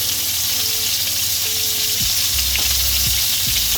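Moroccan kefta meatballs fry in oil in a pan, a dense, steady crackling sizzle with a few soft utensil knocks near the end and no voices.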